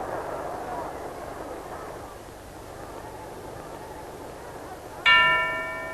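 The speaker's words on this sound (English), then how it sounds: "And there goes the bell to end the third" A boxing ring bell clangs to end the third round of a Joe Lewis fight, a single bright ringing strike that decays slowly after a stretch of crowd murmur and commentary.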